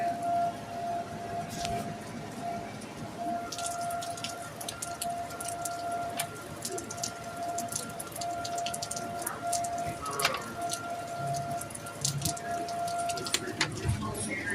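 Tornado warning sirens wail in a steady, sustained tone from a distance across the area, mixed with the soft patter of rain on surfaces throughout.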